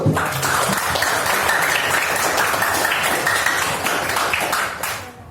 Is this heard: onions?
no